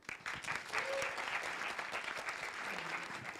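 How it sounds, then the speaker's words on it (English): Audience at a STEM education conference gives a student speaker a dense, sustained round of clapping, fairly even and continuous, with a faint voice underneath. "Give him a clap"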